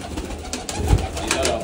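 Breeding pigeons in a loft, a brief low cooing amid soft background noise, close and fairly quiet.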